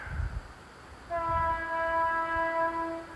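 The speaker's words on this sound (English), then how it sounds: "sounds like a train's coming" A train sounds its horn in the distance during a countryside walk near Burley in Wharfedale, a sustained tonal blast entering after a quiet start and holding steady, faint against outdoor ambience.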